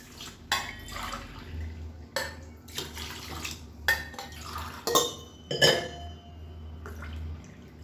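Water poured from a tumbler into a pot of soaking rice for chicken biryani, several separate splashing pours with clinks of a steel vessel between them, close and fairly quiet, with no talk.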